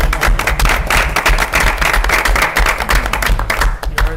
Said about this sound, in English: So I wanted to give him a little round of applause.